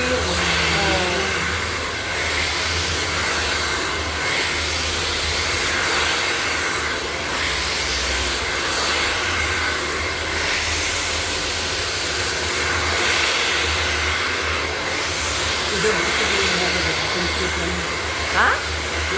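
A hair blower runs steadily and loudly from start to finish, a continuous broadband whoosh with a constant motor hum, and brief faint voices show through it now and then.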